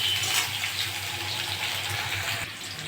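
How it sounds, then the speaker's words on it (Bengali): Pumpkin and potato pieces fry in hot oil in a pan, giving a steady, close, broadband sizzle that holds evenly throughout with no voices. "আমি এবার কুমড়ো আর আলুগুলো দিয়ে দেবো। ভালো করে ভেজে নেব।"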